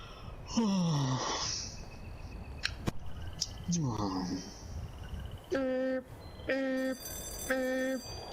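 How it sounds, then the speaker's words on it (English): An alarm goes off in a post-apocalyptic wasteland setting: three loud, evenly spaced buzzing bursts with a hard electronic tone, following some earlier voices and cartoonish sound effects. "What's that? An alarm."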